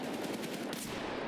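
Rapid gunfire from AI bots in a tactical shooter game, a quick burst of repeated sharp shots at a steady pace, fairly loud and close with no voices.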